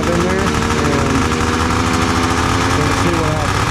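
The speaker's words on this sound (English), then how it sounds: "I'm going to let it idle the fuel that I have in there" An old Polaris barn-find engine idling, a loud, steady, rough mechanical rattle that holds constant throughout without a break.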